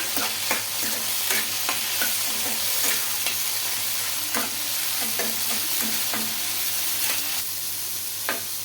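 Tamarind, garlic, ginger, green chilli and tomato fry together in a pan with a continuous soft sizzle, broken by a series of repeated scraping stirs from a spoon or spatula, close by and with no talking.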